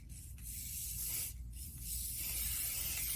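Lacquer paint sprayed onto foam roses at a small painting station, a steady airy hiss with brief pauses between bursts, close and fairly quiet, with no voices.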